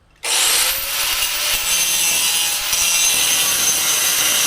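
A saw cuts along a marked line in roll cage tubing for a crazy cart, starting abruptly and then holding a loud, steady, rasping roar close by for several seconds with no voices.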